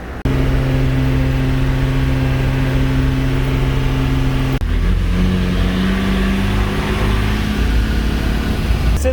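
A vehicle engine runs beneath the seats during a hitchhiked ride across Guyana, producing a loud, steady mid-pitched hum that dips briefly partway through and resumes with a shifted tone, without talk.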